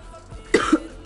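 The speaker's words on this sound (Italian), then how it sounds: "Ovviamente vengo io e inizio a tossire." Three harsh coughs in quick succession during a FIFA 21 career-mode game, close and loud, with a short gap before the last one.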